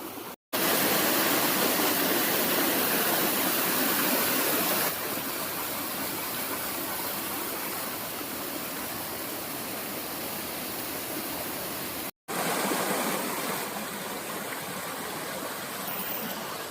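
A constant roar of falling water from Sam Sai waterfall in Khun Han, Sisaket, Thailand, loud and broadband, continues without pause apart from two momentary cuts in the sound.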